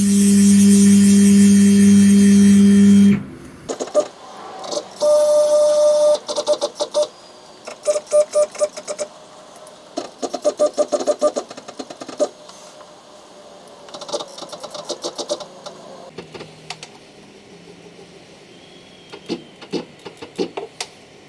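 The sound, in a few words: CNC mill moving under pendant control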